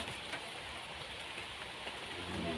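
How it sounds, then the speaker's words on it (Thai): Light rain falling steadily, a soft broadband patter of drops that stays even and quiet for the whole stretch with no voices. "ตอนนี้ฝนก็เบาานะครับเบาๆตกเบาๆนะครับ"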